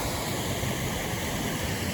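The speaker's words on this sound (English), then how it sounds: "Really nice waterfall here." Steady, dense rush of a mountain waterfall near Selden Pass on the John Muir Trail, a continuous broadband roar close by with no voices.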